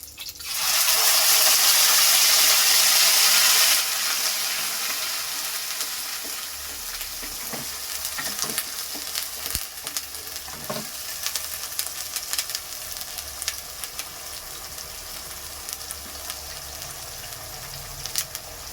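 Onion paste dropped into hot oil in a pan bursts into a loud, bright sizzle for the first few seconds, then settles into a softer steady frying hiss with occasional stirring clicks.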